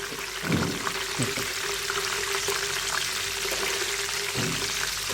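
Slices of raw banana frying in hot oil give a steady broadband bubbling and crackling sizzle, with a few louder low splashes and stirring knocks in between.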